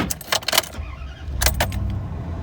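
A 2004 Dodge Ram 1500 with a 4.7L Magnum V8 and a newly replaced fuel pump starts up after a brief jangle of keys, then settles into a steady, close idle.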